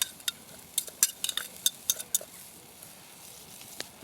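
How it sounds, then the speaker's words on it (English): Onions frying in a pan at a night campsite, a soft sizzle beneath sharp metallic clinks and scrapes of a utensil stirring against the pan, close and intermittent. "I'm just going to roughly fry the onions."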